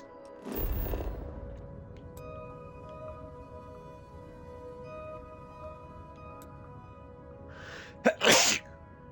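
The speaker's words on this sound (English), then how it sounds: "Just sneezing all of a sudden" A person in a Starfield game session sneezes once, sharply and near, early on, then a second short burst of noise follows later over quiet background hum.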